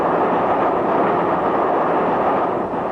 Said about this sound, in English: Did you hear that rattle of the wheels just now?